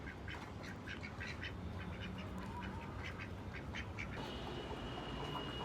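Domestic farm ducks, a pair kept apart with a rooster, quack repeatedly in an irregular, close chorus over steady yard noise, with no one talking.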